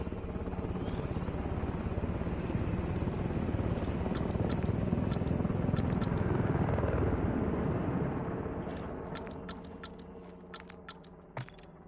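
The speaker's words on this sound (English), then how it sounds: "Extract Helo is returning to base." Helicopter in the video game Call of Duty flying off: a loud, continuous rotor roar that builds and then fades as it moves away, with a few sharp clicks and taps near the end.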